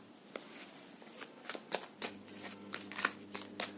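Tarot cards are shuffled by hand in a quick series of crisp riffling snaps and soft slides, close and fairly quiet, with no talking.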